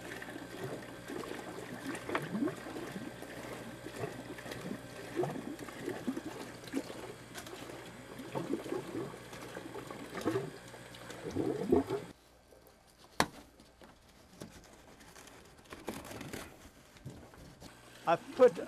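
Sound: water swirling in a DIY compost tea brewer mixer

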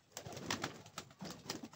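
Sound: pigeons in a loft

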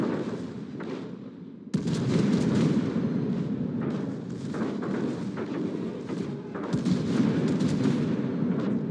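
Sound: enemy battleship being destroyed in a video game

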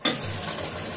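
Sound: garlic and ginger paste frying in a pan

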